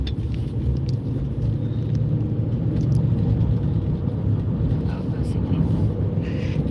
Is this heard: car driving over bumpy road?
yes